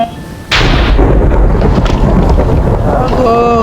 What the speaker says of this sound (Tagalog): Kidlat ng kidlat.